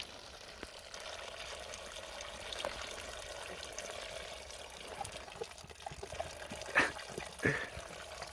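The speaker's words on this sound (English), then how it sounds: "There's a pretty nice little stream of water right here coming out of this rock." A small stream of water flows out of a rock in the Utah high country, a faint steady trickle that runs throughout, with a couple of louder rustles near the end.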